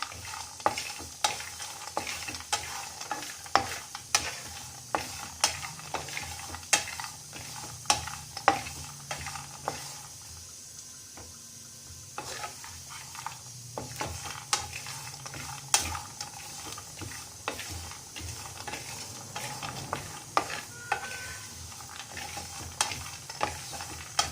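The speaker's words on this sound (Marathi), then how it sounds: "आता आपण तीळ टाकूया आणि ती सुद्धा भाजून घ्यायची।" Sesame seeds and grated coconut dry roasting in a pan on the stove for a stuffed okra masala, with steady soft sizzling and frequent scraping stirs throughout.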